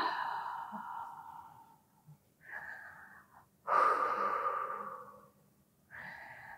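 Slow, deliberate breaths in and out during an abdominal pilates workout, soft airy inhales and exhales separated by short pauses, close and fairly quiet with no talk.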